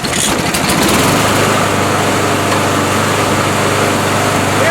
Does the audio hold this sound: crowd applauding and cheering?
no